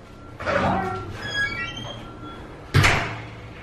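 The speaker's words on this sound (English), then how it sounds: "shut the door" A house door squeaks as it swings, then closes with a solid thud near the end, close and fairly loud, with no talk.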